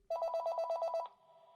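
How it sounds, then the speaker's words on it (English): A telephone rings in a fast trilling burst of repeated bell strikes lasting about a second, then cuts off, leaving a faint lingering tone; no voices. "And this phone call would be the most important call of Elaine's life."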